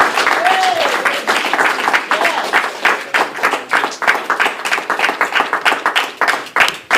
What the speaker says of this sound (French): J'aimerais qu'on donne une bonne main d'applaudissement à l'Éternel